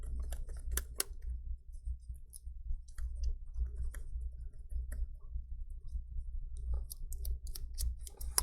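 A small metal brush scrubs back and forth inside an iPhone's USB charging port, giving soft, close clicks and scratchy ticks in uneven bursts over a low steady hum.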